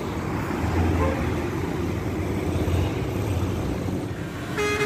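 A bus on an Indonesian road rumbles past amid steady traffic noise, a continuous low engine drone close by with a brief horn toot near the end.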